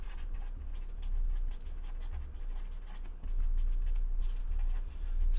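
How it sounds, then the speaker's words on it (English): A pen writes a list by hand on paper, giving close, quick scratchy strokes in short bursts over a low steady hum. "Let me write this down really quick."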